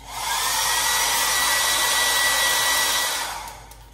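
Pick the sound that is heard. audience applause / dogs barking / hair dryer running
hair dryer running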